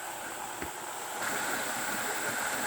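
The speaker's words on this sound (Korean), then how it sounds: "야, 용문 폭포." Yongmun waterfall on Gyeryongsan mountain pours in a steady, broad rushing roar with no pauses, growing a little louder partway through.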